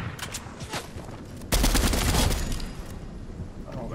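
Fortnite gunfire: a quick burst of shots erupts partway through, loud and clustered, over faint earlier pops and background game noise.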